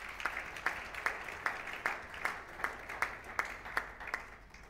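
A church congregation at a French-language Sunday service claps in steady rhythmic unison, about two to three claps per second, echoing in the hall with no voices over it.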